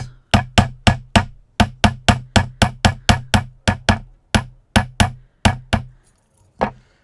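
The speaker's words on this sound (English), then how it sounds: "I'm going to just do some small hammers on the bottom here to make grass" A small hammer taps metal to texture grass, giving about twenty crisp, evenly spaced strikes, close and loud, then a brief pause and one final tap.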